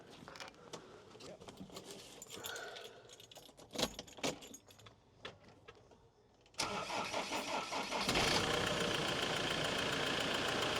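A Ford Puma engine with a cracked piston cranks and fires after keys jingle and some handling noise, then settles into a loud, rough, steady running rumble that fills the rest of the stretch.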